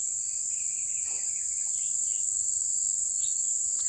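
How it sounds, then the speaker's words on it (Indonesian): A steady, shrill chorus of crickets and other insects fills the air at the edge of a forest, loud and unbroken, with a few faint bird chirps dotted through it and no voices. "teman-teman bisa denger lah, asli masih ada suara burung-burung atau apa ya, karena ini masih sebelah ini masih hutan"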